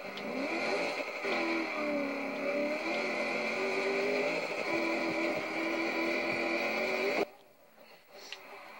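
A car engine on a Bonneville Salt Flats build car hums steadily with shifting pitch as it climbs a hill, fairly close and continuous, then cuts off abruptly near the end, leaving quieter noise.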